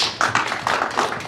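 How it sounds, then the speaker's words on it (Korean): Applause greeting a speaker at a regional development forum, a short burst of brisk clapping from a small audience, fairly close and without voices. "박수로 맞아주시죠."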